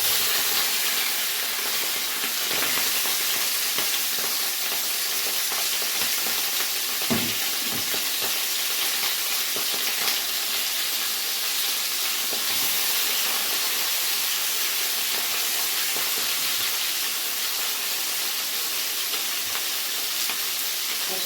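Sausage sautéing in a pan for a potato tagine gives a steady, loud hiss and sizzle of frying that runs unbroken for about twenty seconds, with faint occasional knocks of stirring and no talk.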